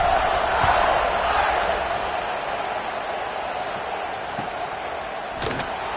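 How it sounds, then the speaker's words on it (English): A football stadium crowd at a Notre Dame vs Oklahoma State game cheering in a broad, distant roar that swells and then settles into a steady murmur, with no talk over it. "this crowd is feeling themselves after that last drive"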